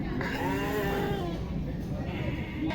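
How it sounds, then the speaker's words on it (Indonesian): A cross Texel sheep at a sheep market in Muning gives a drawn-out, wavering bleat, close by over a constant murmur of crowd noise, with a second shorter call at the end. "Kalau ini domba cross texel ini ya,"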